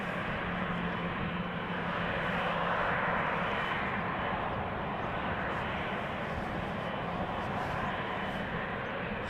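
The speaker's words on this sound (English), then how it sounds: "Looks like another 737 is also taxiing this way" A Boeing 737 airliner taxiing at Amsterdam Schiphol gives off a steady, loud broadband engine roar that swells slightly midway and holds throughout, with no voices.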